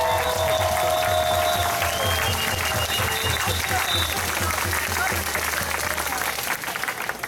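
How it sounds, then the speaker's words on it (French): A crowd at a protest march against emergency measures in Trois-Rivières applauds steadily and continuously, a dense wash of clapping with voices mixed in throughout. "une bonne main d'applaudissements."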